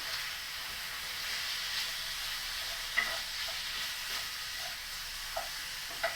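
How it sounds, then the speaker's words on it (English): Steady sizzling of chicken frying in a pan, with a few soft clinks and scrapes of stirring. "I can hear my chicken sizzling, so I'm going to give it a little stir."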